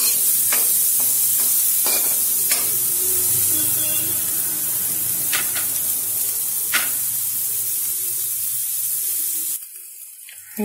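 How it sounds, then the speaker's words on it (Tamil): Onions sauté in a pan, with a soft frying hiss and repeated spatula scrapes and clinks as they are stirred, before the sound drops away abruptly near the end. "வெங்காயம் ஒரு ரோல் நல்லா வதங்கிடட்டும்."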